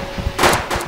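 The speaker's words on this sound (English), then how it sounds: "Use the gun we got earlier to shoot him down." A single sharp gunshot from a Roblox gun fired at a spider, a brief loud crack with a short burst of noise at the centre of the clip.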